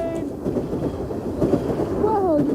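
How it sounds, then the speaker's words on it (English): A train rumbles past nearby with clattering wheels and a whistle-like tone rising near the end, while people talk over it. "Goes the train, Jean-Jacques."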